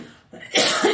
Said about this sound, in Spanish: Es que no se me quita la tos todavía, desafortunadamente.